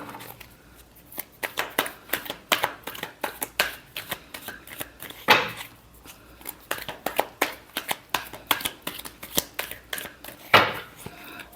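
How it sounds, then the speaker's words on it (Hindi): Tarot cards being shuffled by hand in a run of quick, crisp riffles and flicks, each burst a few seconds long, with a couple of louder slaps of the deck partway through, close and clear with no talk. "Last shuffle."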